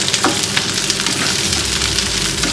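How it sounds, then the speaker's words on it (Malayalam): Five green chillies sauté in a hot pan for a spiced fish rice dish, giving a steady, close, even sizzle throughout with faint stirring and no voices. "ചെറുതായിട്ടൊന്ന് വഴറ്റിയെടുക്കാം"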